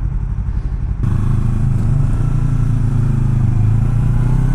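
A motorcycle passes close on a street, its engine suddenly loud after a brief quieter moment, holding a steady mid-pitched drone and rumble until the end.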